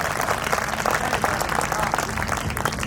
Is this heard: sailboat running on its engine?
no